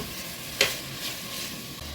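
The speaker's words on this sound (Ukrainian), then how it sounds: "Перемішую і смажу ну, на великому вогні приблизно 3-4 хвилинки." Onion sizzles continuously in a hot pan over high heat, with one sharp scrape of stirring near the start, close and moderately loud.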